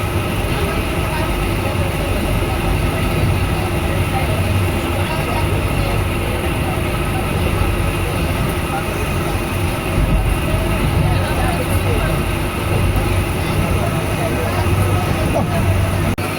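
Loud, continuous rumble of a moving Bijoy Express passenger train in Bangladesh, with rail clatter and carriage noise holding steady throughout the ride.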